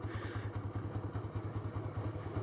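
A new TVS Raider 125 motorcycle rides along in third gear, its engine giving a rapid, even low throb with a faint rattle on top. It stays steady and fairly quiet throughout, and no one talks over it.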